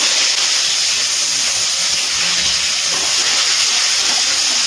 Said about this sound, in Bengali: এবার দিয়ে দিচ্ছি একটা মিডিয়াম সাইজের কেটে রাখা পেঁয়াজ